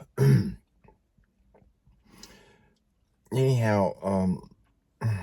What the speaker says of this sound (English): I keep having these coughing fits.